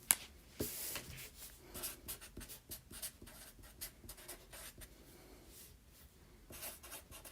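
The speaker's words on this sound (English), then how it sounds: "Let me write them down." A pen scratches steadily across paper as names are written down by hand, with close, continuous scribbling strokes, brief pauses and no speech.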